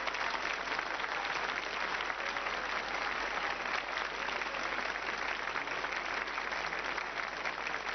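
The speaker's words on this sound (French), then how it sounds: "Je vous demande d'applaudir le héros" Steady, continuous audience applause greeting Philippe de Dieuleveux, treasure-hunt globetrotter, a full even roar of clapping from a large crowd with a muffled, band-limited quality and no voices on top.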